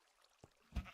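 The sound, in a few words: sheep bleating in the video game Minecraft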